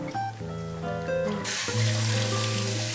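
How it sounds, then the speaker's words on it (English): Melon seeds are rinsed under a running kitchen tap, the water first trickling, then gushing in a strong, close, steady stream that fills the second half. "Simply rinse the seeds under water"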